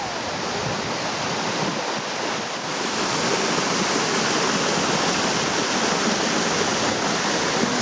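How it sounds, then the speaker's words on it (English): A waterfall pours down in Baños, Ecuador, as a steady, dense roar of falling water that stays loud and close the whole time, with no voices. "the waterfall is coming down here in Baños"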